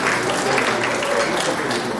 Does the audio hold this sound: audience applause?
yes